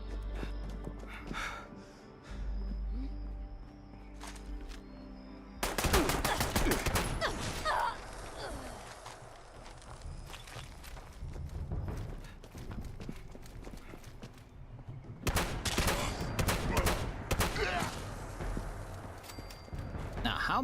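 Gunfire in the video game Fallout 76 rings out as scattered sharp cracks and bursts over game ambience, louder during two busier stretches, with talk running through parts of it.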